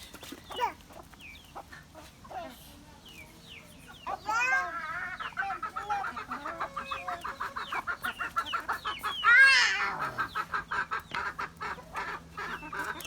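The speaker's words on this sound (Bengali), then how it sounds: "এই তো মুরগি খাবার খাচ্ছে" Several chickens cluck and chatter close by while eating, a busy run of short repeated clucks with a louder squawk partway through, no talking.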